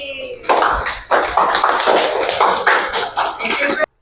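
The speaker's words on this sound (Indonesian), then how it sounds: "tepuk tangan buat kelompok B." Classroom applause for a student group, a burst of clapping hands that starts abruptly and runs steadily for about three seconds before cutting off.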